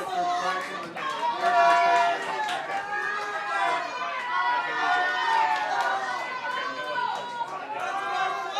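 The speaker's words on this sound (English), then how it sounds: "They hear their teammates, they hear their parents, their fans cheering them on." Spectators in the grandstands at a high school rowing regatta cheer and shout together in a busy crowd roar, many overlapping voices yelling encouragement at moderate distance.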